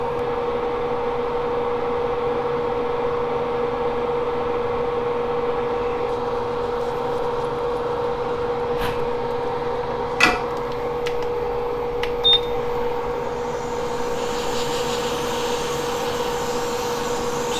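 A hot air blower set to 120 degrees at full airflow dries a wet flash drive, giving off a steady, close whooshing hum with a faint tonal whine and a couple of small clicks.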